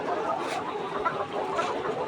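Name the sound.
layer hens clucking on poultry farm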